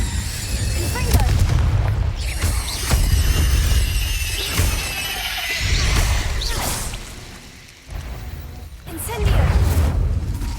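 Explosive spell blasts from the video game Hogwarts Legacy, a run of loud booms and whooshing bursts repeating every second or two over low rumbling, with a voice speaking in between.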